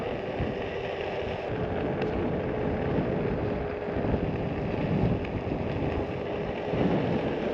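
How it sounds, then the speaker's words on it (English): Cold spring wind blows at an Alaska campground, a steady broadband rush buffeting the microphone for the whole stretch with no voices. "Ooh, that wind's cold."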